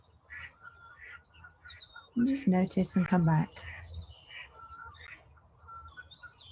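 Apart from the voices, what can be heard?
ducks and birds calling outdoors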